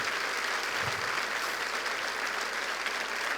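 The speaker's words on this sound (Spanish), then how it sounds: "Vamos, denle un aplauso más fuerte." A church congregation applauds together in a continuous, even wash of clapping that holds steady from start to finish, with no voices rising above it.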